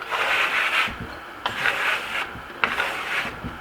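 A trowel burnishes a Marmorino lime plaster coat on a wall, giving repeated close rasping strokes in a steady back-and-forth rhythm, each sweep a second or so long with brief pauses between.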